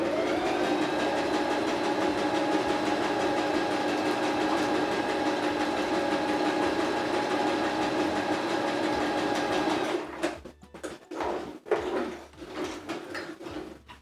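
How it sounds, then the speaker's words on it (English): A sewing machine stitches a jacket sleeve in a steady, loud, whirring run for about ten seconds. It then stops and gives way to a few clicks and handling noises. "First pin along the two lines, pattern lines, and then sew using the machine."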